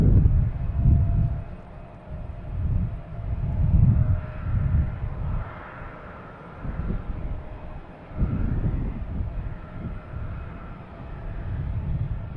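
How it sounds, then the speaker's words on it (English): A Delta Boeing 737-900 airliner inbound from Cancun lands at Boston Logan, its engines a loud, fluctuating low roar that swells and fades in several surges, heard alone without talk. "they're waiting for this Delta to land. Coming in from Cancun, 737-900."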